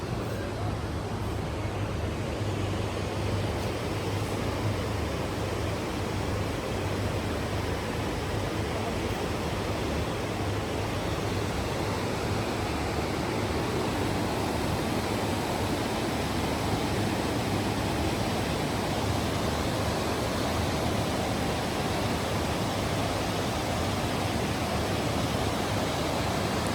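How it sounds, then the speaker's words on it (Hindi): Steady broadband rush of a river flowing right beside a hotel along the Badrinath pilgrimage route, a continuous close, loud wash of water with no breaks for the whole stretch. "नदी के बहने की सुंदर आवाज़ आप सुन सकते हो"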